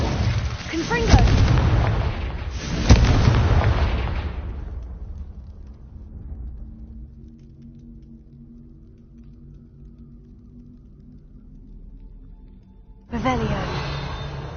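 A Confringo explosion spell cast in a PS4 video game: two heavy booms close together, then a long fading rumble, and another blast bursting in at the end.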